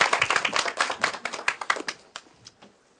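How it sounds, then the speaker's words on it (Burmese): Hands clapping to open a wedding celebration, a quick flurry of close claps in uneven rhythm that thins out and fades toward the end, with faint voices underneath. "လက်ခုပ်တန်လေးနဲ့စမယ်"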